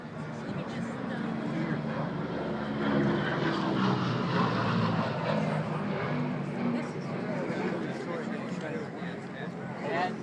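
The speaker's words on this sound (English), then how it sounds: "seeing 5 P38s in one place all at the same time is something that you may not see for a long time" Several P-38 Lightning twin-engine fighter planes fly past at an air show, a broad propeller engine roar that swells and fades, under an announcer's voice.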